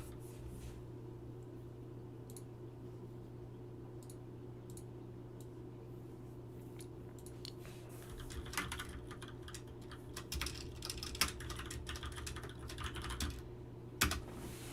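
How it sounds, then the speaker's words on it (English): Steady, light typing on a computer keyboard with quick clustered keystrokes, growing busier later, over a constant low electrical hum. "you're gonna hear typing occasionally. It's just me taking notes"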